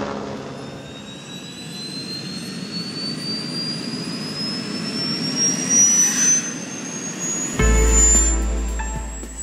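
An Airbus H125 helicopter engine, used for aerial work in the Alps, gives a steady turbine whine and rumble that swells and fades over several seconds, with a rising high-pitched tone and no voices.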